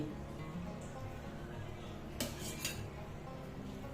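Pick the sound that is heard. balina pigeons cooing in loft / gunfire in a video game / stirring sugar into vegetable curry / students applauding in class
stirring sugar into vegetable curry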